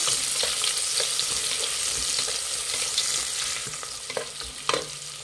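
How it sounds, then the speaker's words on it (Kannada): Lengthwise-sliced onions sizzle in hot oil with curry leaves while a spoon stirs and scrapes the pan, a steady close frying hiss broken by clattering strokes, no talking. "ಮಿಕ್ಸ್ ಮಾಡಿ ಈರುಳ್ಳಿ ಸ್ವಲ್ಪ ಫ್ರೈ ಆಗಬೇಕು"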